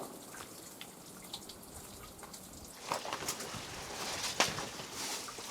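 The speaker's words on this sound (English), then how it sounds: "This is what feeds it, just the dripping, dripping, dripping down this water, down this wall" Water drips and trickles down a rock wall at a desert spring oasis in Big Bend Ranch State Park, a steady patter that grows busier and louder partway through, with faint outdoor ambience and no voices.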